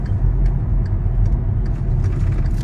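A car rolling along at low speed while its CV joints are tested at full steering lock, a steady engine rumble with faint clicks and knocks ticking over the drone.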